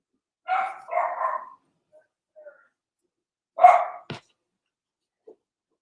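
A dog wearing a cone barks a few times nearby: two quick barks, a gap with faint whimpers, then one more bark followed by a short knock, all against near silence.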